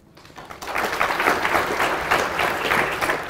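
An audience breaks into applause, dense clapping that swells quickly and holds steady for a few seconds, filling the room.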